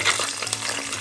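Ginger, garlic and green chilli sizzle and fry in hot coconut oil with curry leaves for a Malabar chicken curry: a dense, steady crackling hiss heard up close with no talking.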